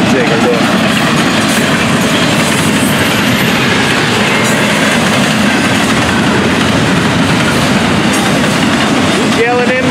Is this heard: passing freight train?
yes